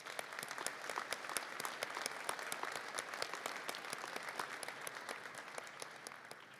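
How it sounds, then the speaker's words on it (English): Sustained applause from a commencement audience honoring graduating education students, steady dense clapping with sharp individual claps standing out, moderately distant and continuous for the whole stretch with no talking. "Let's give these students a warm round of applause."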